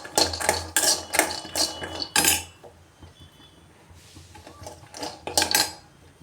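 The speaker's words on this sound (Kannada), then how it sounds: "ಇದನ್ನು ಚೆನ್ನಾಗಿ ಸಣ್ಣ ಉರಿಯಲ್ಲಿ ಹುರ್ಕೋಬೇಕು" Ten to fifteen almonds and ten to fifteen cashews are dry-roasted in a pan over a low flame, stirred so the nuts rattle and scrape against the metal in several close bursts, with a short quieter gap midway.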